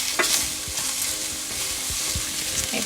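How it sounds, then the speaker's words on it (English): Mushrooms frying and being stirred in a pan for a chicken and mushroom wine sauce, a loud, continuous close sizzle broken by repeated scraping stirs. "just stir this in and cook it until the mushrooms have brown some"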